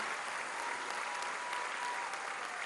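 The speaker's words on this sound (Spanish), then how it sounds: "Chetumal le manda un abrazo y nuestro aplauso ahí en donde todos sabemos que está" Crowd applause at the inauguration of the final phase of the Tren Maya in Chetumal, steady dense clapping from a large outdoor audience that stays even throughout.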